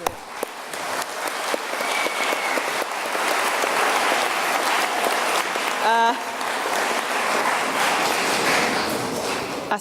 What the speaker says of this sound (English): Can we please give ourselves a round of applause